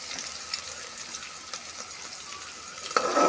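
Potatoes frying in a pan with turmeric and salt, giving a steady, moderately loud sizzle that runs throughout with a brief louder burst near the end.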